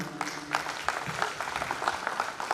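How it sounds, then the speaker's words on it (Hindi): An audience at a Kangen water rank celebration event claps steadily after a speech, a moderately loud crowd of overlapping hand claps that keeps going throughout. "तालियां कम है आपकी।"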